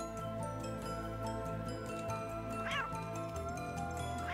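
Cartoon cats meow a few times in the video game Balthazars Dream, short rising calls over a steady game music bed, with a voice briefly present.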